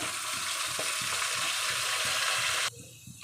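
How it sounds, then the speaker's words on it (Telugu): Chopped onions, green chillies and curry leaves frying in hot oil give off a steady, close sizzling hiss that runs loud throughout, then drops off sharply near the end. "ఆనియన్స్ ఫ్రై అయినాయి."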